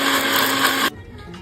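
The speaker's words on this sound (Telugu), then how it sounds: "ఇవన్నీ మిక్సీ గిన్నెలో వేసుకొని మెత్తని పేస్ట్లా చేసుకోవాలి." A kitchen mixer grinder whirs loudly as it blends roasted spices, onion, tomato and cashews into a smooth paste, then cuts off abruptly near the end.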